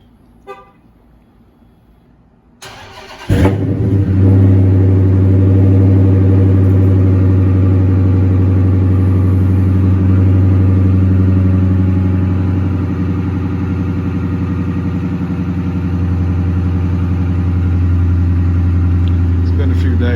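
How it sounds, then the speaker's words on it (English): A Chrysler 300 with a muffler delete cold starts loudly after a quiet pause, its crank catching in a sharp burst before settling into a deep, rumbling, steady high idle that continues close by. "Gonna get a cold start, and it's cold as hell out here too."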